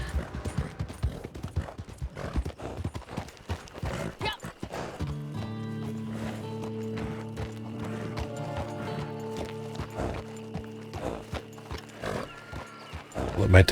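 Horse hooves in a western video game clop along at a steady walking pace, close by, over an ambient musical drone, with a horse whinnying near the end.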